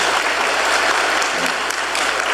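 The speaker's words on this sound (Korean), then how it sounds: "우리 함께 따뜻한 박수로 환영해 주시기 바랍니다." Church congregation gives warm, steady applause during a Sunday worship service, welcoming a piano special performance; dense continuous clapping from a crowd, fairly loud and even throughout with no talk.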